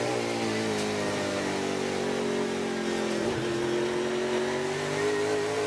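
Trans Am race car at Laguna Seca accelerating hard, a loud continuous engine roar with steadily climbing pitch and a brief dip midway, no voices.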